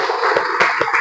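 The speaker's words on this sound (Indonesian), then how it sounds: "Tepuk tangan ya" A group clapping hands together, a short run of quick, fairly loud claps in an uneven rhythm.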